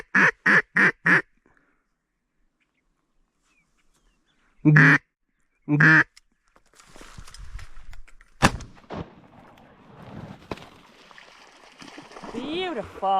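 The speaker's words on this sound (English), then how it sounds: "It was gonna be Drake Mallard." Wild drake mallard on a waterfowl hunt, with a burst of quick loud quacks, two more quacks after a pause, then water splashing and rustling as people talk softly.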